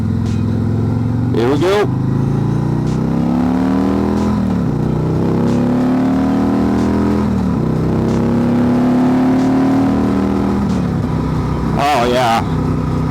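Engine of a 2024 Harley-Davidson Road Glide 3 trike revving and accelerating in rising pulls during a test ride, loud and close, with someone speaking over it in bursts.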